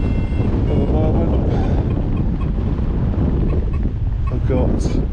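Strong wind buffets the microphone while paragliding over Kerio Valley in Kenya, a loud, continuous rumbling roar with no break.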